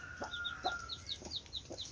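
A hungry mother hen clucks in short, steady bursts on a small farm beside her newly hatched chicks, about four clucks in two seconds, close and clear, with thin high peeping in between.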